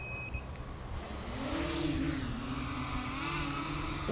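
FPV drone motors armed and spinning up: a high electronic whine rises and wavers steadily over a low hum, with a few short beeps at the start, close and moderately quiet.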